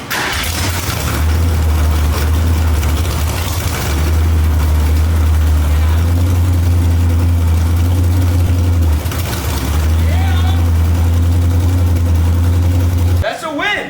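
A 1965 Ford Mustang engine cranks, catches and settles into a loud, steady low idle that runs for several seconds. A short dip comes midway and a brief rise near the end.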